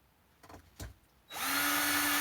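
A couple of soft knocks, then a power drill whirs up loud and steady, running continuously close by.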